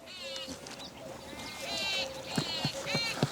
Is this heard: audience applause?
no